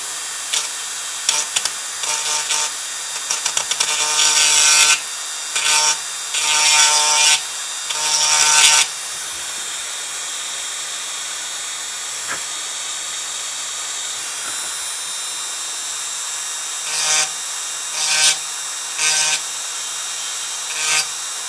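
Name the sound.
Dremel rotary tool cutting keyboard part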